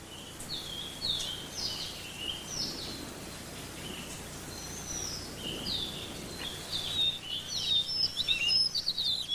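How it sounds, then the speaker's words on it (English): A Madagascar magpie robin sings a run of clear, whistled phrases, close and fairly loud, over quiet outdoor ambience with no voices. "The Madagascar magpie robin, whose song is a familiar refrain everywhere on the island"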